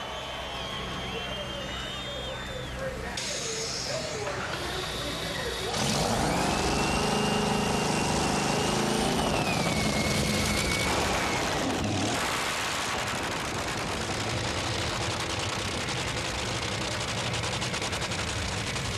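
Two Top Fuel nitro dragster engines, over 16,000 horsepower combined, crank and fire up at a drag strip, first a whirring starter whine, then a loud continuous crackling roar that holds steady and close, with an announcer's voice over it.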